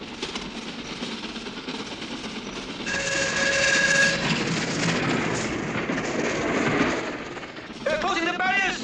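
Moving train with a continuous loud rumble and clatter of rail cars, a brief whistle-like tone in the middle and a distant voice calling near the end.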